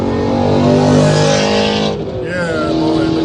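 A car roars past loudly at close range, its engine note sustained and high-pitched before dropping off sharply as it moves away, leaving a fading lower drone.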